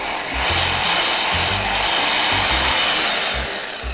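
Hitachi 220V slide saw cutting wood, loud and close, its motor whine running continuously as the blade bites in repeated rhythmic strokes.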